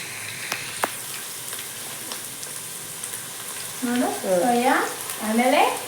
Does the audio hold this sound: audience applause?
no